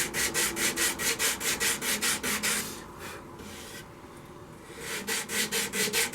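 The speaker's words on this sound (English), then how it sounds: "I'm going to continue on sanding the rest of it." Sandpaper rubs over a freshly turned green poplar wood bowl in rhythmic, rapid back-and-forth strokes, pausing briefly mid-way before the scratchy strokes resume close up.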